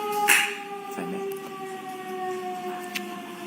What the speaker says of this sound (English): I was just waiting for the siren